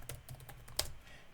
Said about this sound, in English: Okay, you type in download